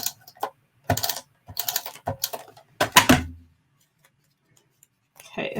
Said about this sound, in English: I'm just going to use tape runner on this just because it's getting to be a larger piece